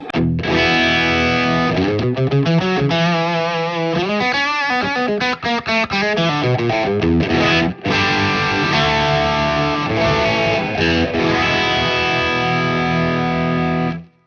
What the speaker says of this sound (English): With the OD-1 on, sounds like this.